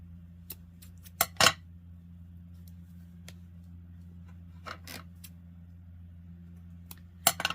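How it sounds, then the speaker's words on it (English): Sharp scissors snip through thread stitches on a chiffon flower pompom dangle: a few crisp, close cuts come in small bursts over a steady low hum, with no talking. "make sure you're not cutting off any stitches or cutting into your flower"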